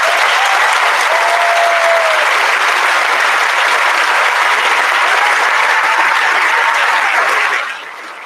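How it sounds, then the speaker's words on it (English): Loud, sustained applause from a graduation audience honoring students joining the military, a dense wash of many clapping hands that holds steady for about seven seconds before tapering off. "So can we give them a round of applause?"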